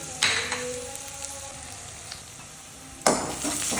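Onion and garlic fry in a pan for mung dal with a soft, continuous sizzle that swells sharply twice as the mixture is stirred or disturbed. No voices are heard.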